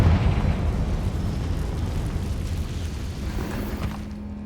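A Confringo spell explodes in Hogwarts Legacy with a loud, close, deep boom that rolls on as a long rumbling decay and fades slowly.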